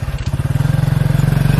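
Motorcycle engine idling close by, a loud steady low-pitched putter with even rapid pulses that firm up after a brief uneven start, no talk over it.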